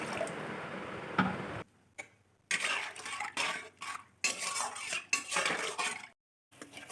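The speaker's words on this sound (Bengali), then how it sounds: "এবার নেড়েচেড়ে একটু রেখে দিলাম" Spoon scraping and stirring a potato and lentil curry in a metal pot, several short clattering strokes with brief pauses, close and clear, no talk.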